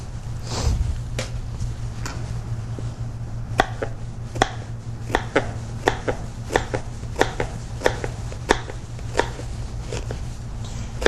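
Onions for shrimp bisque are chopped on a board with a knife, a steady run of crisp, close chops repeating at a fairly even rhythm with no talking.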